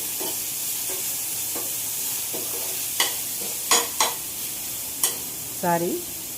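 Onions sautéing in a pan for a mushroom pepper gravy, a steady close sizzle broken by a few sharp scrapes and stirs of a utensil against the pan, with no talking.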